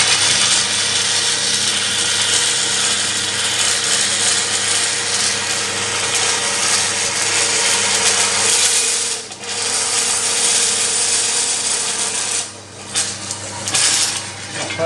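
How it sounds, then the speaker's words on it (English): A small bandsaw modified to run vertically cuts through metal, giving a steady loud broadband rasping whine that holds for most of the stretch, with a short dip near the end where the blade briefly eases off. "And we go over here to my little modded bandsaw."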